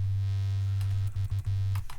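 Synth bass from Ableton's Operator pushed through the Pedal effect's fuzz mode, a thick, buzzing low drone that turns into a few choppy broken notes toward the end.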